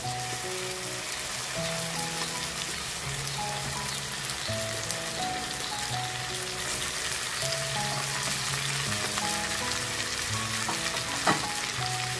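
Two quail pieces frying in a pan, a dense steady sizzle like rain on a surface, close and even, with occasional clinks of stirring and no speech.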